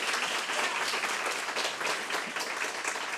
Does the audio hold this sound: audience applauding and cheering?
yes